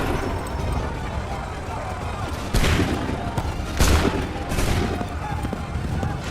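Musket volleys ring out in Assassin's Creed III Remastered over a dense, continuous roar of battle, with three louder crackling bursts standing out from the din.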